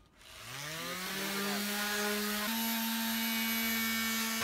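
A power sander spins up with a rising whine, then settles into a loud, steady high-pitched drone with no pause while sanding wood.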